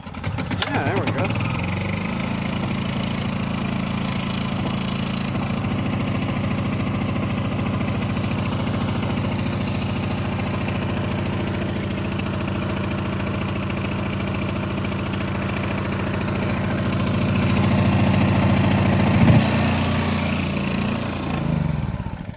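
A Chinese 3500 W generator, snow-covered after a cold start, runs steadily and loud with a constant low engine drone throughout, its pitch and level rising briefly near the end.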